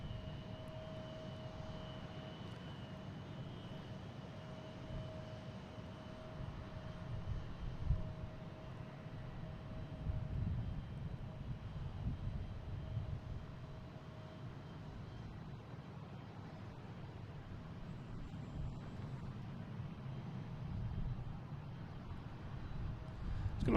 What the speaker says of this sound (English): So this is a Delta from Amsterdam, an A330-900, landing on 1-5.